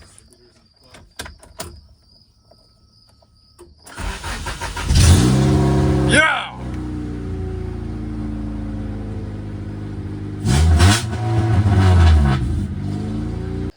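A Honda CRX dirt race car's engine cranks and catches at once in neutral, then revs loudly in a couple of bursts, close by, with a brief shout between revs.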